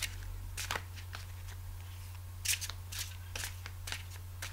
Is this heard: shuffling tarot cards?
yes